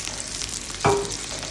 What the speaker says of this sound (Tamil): வெங்காயம் நல்லா வதக்கி பார்ப்போம்